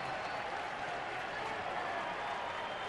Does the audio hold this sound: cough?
no